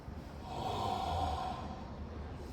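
A single slow, deep exhale of breath, soft and close, swelling and fading over a couple of seconds against a quiet background.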